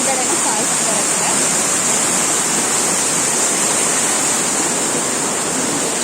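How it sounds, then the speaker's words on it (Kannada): Bangara Kusuma waterfall near Siddapur in Uttara Kannada gives off a loud, constant roar of rushing water, heard close up and unbroken. "ನೋಡಿ ಫಾಲ್ಸ್ ಹೀಗಿದೆ, ಇದು ಸ್ಟಾರ್ಟಿಂಗು."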